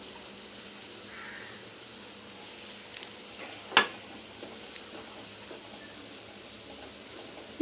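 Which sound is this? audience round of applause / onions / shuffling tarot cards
onions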